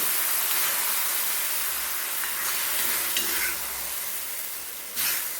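Oil sizzling in a pan while mustard seeds temper for a ripe mango pulissery curry, a loud hissing fry that runs throughout, eases partway and flares again near the end.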